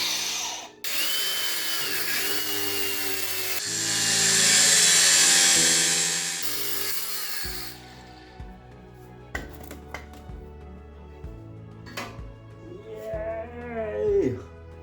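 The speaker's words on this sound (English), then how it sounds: "let's cut the old bolt out" A cutting tool grinds through an old suspension bolt on a W220 Mercedes-Benz S-Class with air suspension. It gives several seconds of loud, harsh cutting noise, then quieter clanks and scattered tool sounds follow.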